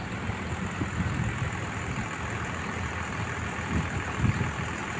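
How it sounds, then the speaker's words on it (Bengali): Two large lorry engines power a river ferry vessel crossing from Shantipur, giving a steady low rumbling drone with broad mechanical noise, continuous and fairly close throughout, with no talk. "সব লরির বড় বড় ইঞ্জিন ডবল ইঞ্জিনে ভেসেলটা চলছে"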